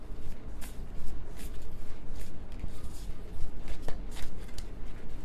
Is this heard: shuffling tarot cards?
yes